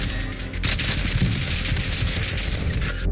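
Rapid, dense gunfire from a first-person shooter video game, a continuous fusillade of overlapping shots with a brief dip near the start, loud and steady throughout with no voices.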